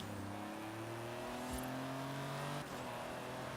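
BMW car engine in the racing game Forza Horizon 3, an M3 or M5, droning steadily throughout with rising harmonic tones and a brief rev near the middle, loud and close with no talk.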